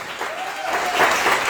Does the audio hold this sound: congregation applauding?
yes